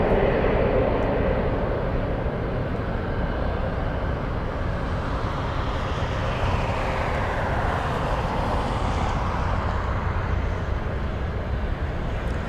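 A cargo plane lands at Anchorage airport, its engines making a loud, steady broadband roar that holds throughout with a slowly shifting pitch, heard from a distance across the field, with no talking.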